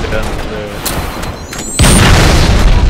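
Shotgun fire in Halo Reach, a loud booming blast that bursts in suddenly midway and keeps roaring amid chaotic battle noise, with earlier pops and a whistling streak overhead.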